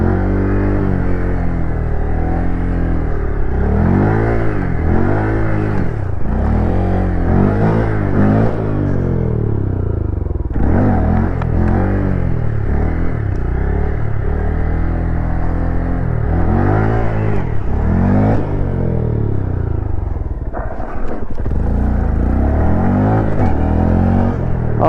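A motorcycle engine revs and surges continuously during circle wheelie practice in a parking lot, loud and close, with rising and falling throttle sweeps and a brief dip in the middle.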